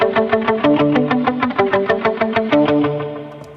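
An electric guitar plays a quick run of plucked notes through a wavering, vibrato-like effect, each note pulsing and shimmering, loud and alone.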